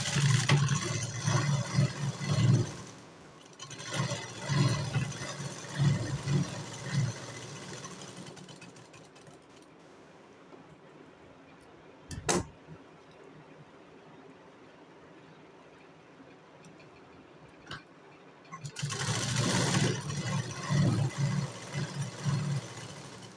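Sewing machine running cross stitches on a blouse, bursts of fast mechanical whirring at the start, middle and end, separated by quiet stretches with a single sharp click.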